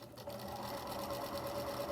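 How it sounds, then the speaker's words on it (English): Close, steady whirring of a sewing machine stitching a line across fabric for a bowl cozy, a continuous rapid mechanical purr that holds evenly throughout. "I just hold the point of my fabric here and I sew across"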